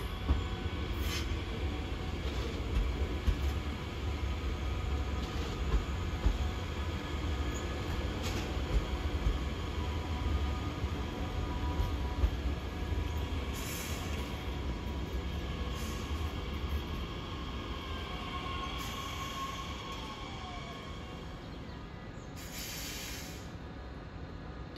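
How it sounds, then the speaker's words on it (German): A train rolls through Gießen station in the distance as a steady, even rumble with a hiss, joined by faint wheel squeals and brief high whines toward the end. "In der Ferne schiebt sich wieder ein Zug durch den Bahnhof."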